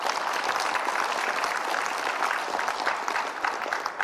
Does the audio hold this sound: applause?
yes